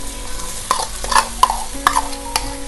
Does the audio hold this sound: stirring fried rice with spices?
yes